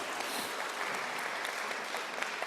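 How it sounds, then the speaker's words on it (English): An audience at a school board state-of-the-district address claps in a faint but steady round of applause lasting a couple of seconds. "That you should applaud that."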